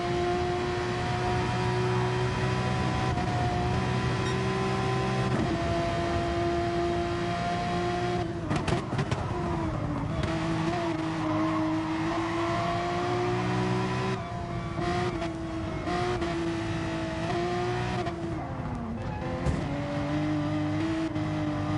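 Race car engines in Gran Turismo Sport at Mount Panorama drone steadily and loudly, pitch rising and falling through gear changes and corners, with several cars blending together and no talk.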